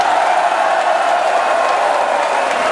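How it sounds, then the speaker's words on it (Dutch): A festival crowd applauds Ome Jan with continuous dense clapping and faint cheering, loud and even throughout with no pauses. "Een applaus voor Ome Jan!"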